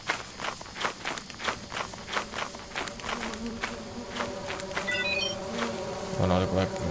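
A buzzing swarm of bees in the video game Lethal Company, mixed with rapid footsteps, continuous and moderately loud with a rising chirp of game tones near the end.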